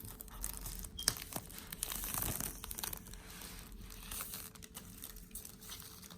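Plastic wrapping on a new Apple Watch Series 5 Nike Edition box crinkles and tears in close, quiet handling, with scattered crisp crackles and rustles and no talking.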